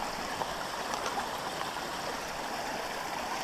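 A river in Hellbank Plantation, flowing toward the River Derwent, rushes in a steady, even wash with faint trickles on top, close and constant with no voices.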